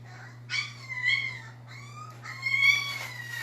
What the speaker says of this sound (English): Got a puppy upset.